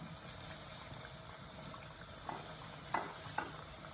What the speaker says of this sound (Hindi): मीडियम आंच पे आपने इनको फ्राई करना है, तेज आंच पे नहीं करना, ताकि वो क्रिस्पी हो जाए ना।